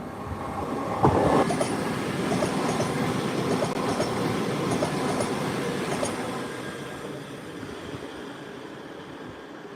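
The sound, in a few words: freight train of two light locomotives passing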